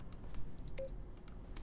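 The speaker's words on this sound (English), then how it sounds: "Function sounds throughout the game and the buttons pressed. Each sound is mixed keyboard stroke." Keyboard keystroke sound effects from the video game The Stanley Parable: a series of faint, sharp clicks and taps at irregular intervals over a quiet background.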